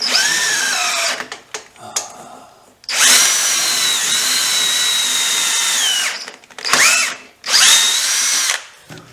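A power drill with a keyless chuck whines loudly up close in several bursts, one long sustained run, with pitch dropping as it spins down between shorter revs.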